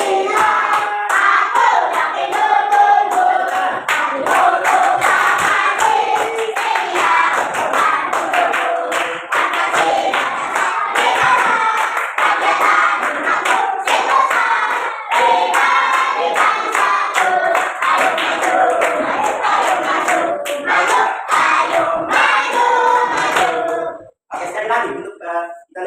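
Children clapping hands in rhythm while singing the Indonesian patriotic song Garuda Pancasila, steady loud claps running under the group singing until it trails off near the end.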